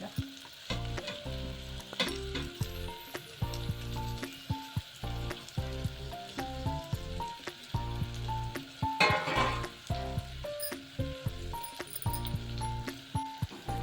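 Pavta beans dropped into a hot pan for pavta rice made with Indrayani rice: steady loud sizzling and frying with stirring, joined by a repeating background melody.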